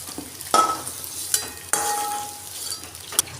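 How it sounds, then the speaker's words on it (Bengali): Potato and soyabean pieces stirred briefly in hot oil for a curry, with a steady frying hiss and a few sharp scraping clinks of a spatula against the pan, close and alone. "এগুলো খুব বেশি ভাজবো না, শুধু একটু তেলে নেড়ে নেব"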